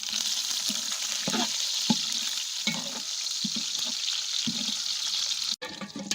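Cinnamon, fennel seeds and curry leaves crackle in hot oil for vegetable biryani, a busy close sizzle with scattered sharp pops and spatters, then a brief dropout near the end.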